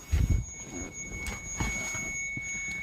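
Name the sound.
car key warning beeping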